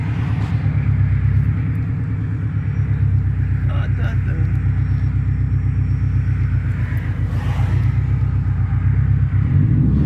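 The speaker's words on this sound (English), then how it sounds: "the boys get a little bit of fuel cut from being low on gas" Subaru WRX turbo engine rumbling steadily from inside the car, with a brief stutter of fuel cut from running low on gas; loud and continuous, with people talking over it.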